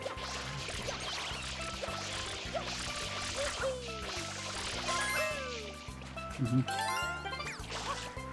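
Water sprays in Super Mario Sunshine in short hissing, trickling bursts over rhythmic game music, with a few splashy crashes near the end.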